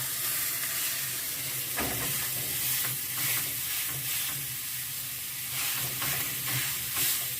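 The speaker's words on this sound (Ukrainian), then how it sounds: "Розігрілася наша сковорідка. Беремо обережно і отак фаршем донизу. На сковорідку оба." Steady sizzling of stuffed lavash frying meat-side down in a hot pan, with occasional louder crackles and scraping as it cooks; no voices.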